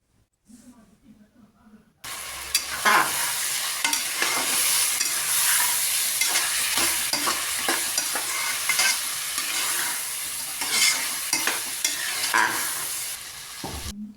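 Ginger garlic paste sautés and sizzles in a pan, a loud continuous frying hiss broken by stirring scrapes, starting abruptly after a short quiet lead-in and holding steady until it cuts off near the end.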